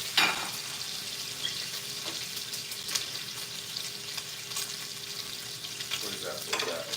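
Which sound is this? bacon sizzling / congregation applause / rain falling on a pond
bacon sizzling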